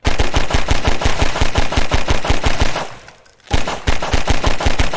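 Rapid automatic gunfire in the video game Garry's Mod VR, a loud, evenly spaced stream of shots that cuts out briefly past the three-second mark, then resumes just as fast and hard.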